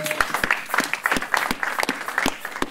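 A church congregation applauds to acclaim the Lord during a service, sustained steady clapping from many hands filling the room with irregular sharper claps standing out, no voices.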